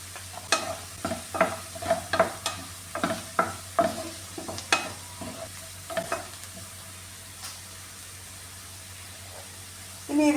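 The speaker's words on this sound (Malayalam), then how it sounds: "കുറച്ച് കറിവേപ്പില കൂടി ഇട്ട് കൊടുക്കുകയാണ്. ഇത് നന്നായിട്ടൊന്ന് വഴറ്റിയെടുക്കാമേ." Onion and curry leaves sautéing in a pan for beetroot fry: a soft, steady sizzle with frequent rhythmic scraping and stirring strokes that grow sparse toward the end.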